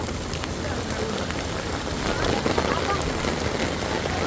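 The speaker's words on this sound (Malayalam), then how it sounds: "ശക്തമായ മഴ പെയ്തു കേട്ടോ അടിപൊളി മഴയാണ് പെട്ടെന്ന് പെയ്തു" Steady, dense hiss of heavy rain pouring onto a surface, continuous and close, with a slight swell in intensity partway through.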